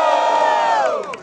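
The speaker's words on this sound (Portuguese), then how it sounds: "Vamos gritar alto pra um só. Barulhos, barulhos pro Fauzi" A crowd at a student rap battle in Guarulhos cheers and shouts for a rapper, a loud sustained roar of voices that swells and then fades out.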